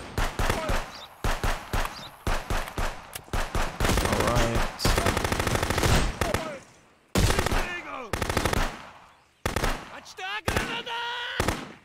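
Gunfire in the video game Contraband Police: loud, close bursts of rapid automatic shots and single cracks in a choppy rhythm, broken by short pauses, while a voice talks over the shooting.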